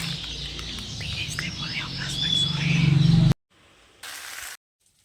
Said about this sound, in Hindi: यहाँ पे ना चिड़ियों की आवाज़ इतनी प्यारी सी आती है